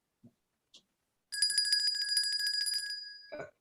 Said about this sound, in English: You may also ring the bell.